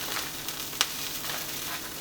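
Frozen onions fry in a pan beside garlic, giving a steady, soft broadband sizzle with one small pop, heard alone at close range.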